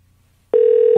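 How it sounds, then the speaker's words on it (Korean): An outgoing phone call rings out as a single steady ringback tone starting abruptly after a quiet moment, loud and close, during a radio show birthday call. "저 전화가 가고 있나요?"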